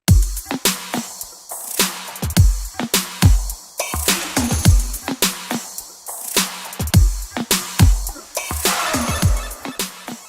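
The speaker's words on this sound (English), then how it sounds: "the hook drums sound like this" Hook drums from a song play with the main kick and snare: a steady, loud electronic pattern of punchy low kicks and sharp snare hits repeating evenly under bright layered percussion, with no voice.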